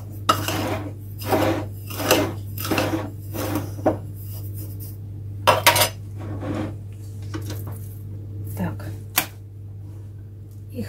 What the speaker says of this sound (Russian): Хорошо размешаем.